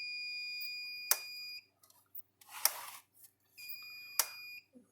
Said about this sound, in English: As you can see, it sounds off an alarm.